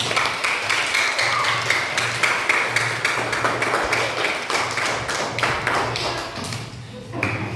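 A class applauds together after students finish a presentation in an Indonesian school lesson, with dense, steady clapping sustained for several seconds and fading slightly near the end.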